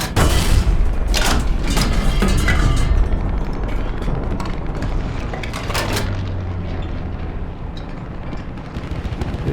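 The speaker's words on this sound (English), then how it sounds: "We're just gonna keep throwing rounds down way." The Zrinyi I assault gun firing in War Thunder, with heavy booming cannon shots at the start and again around six seconds over a constant loud engine rumble, with no talking.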